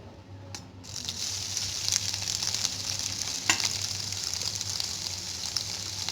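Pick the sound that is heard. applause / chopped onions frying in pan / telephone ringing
chopped onions frying in pan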